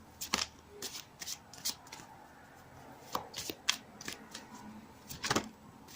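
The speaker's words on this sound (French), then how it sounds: "je vais donc tirer des cartes" A tarot deck is shuffled close up, producing a run of crisp riffling and slapping card bursts, irregular and sometimes doubled, with a faint voice at moments.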